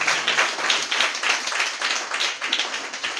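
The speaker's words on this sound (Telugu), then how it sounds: "చప్పట్లు కొట్టుదామా?" A church congregation claps their hands in a dense, lively round of applause, with rhythmic surges of many hands striking together throughout.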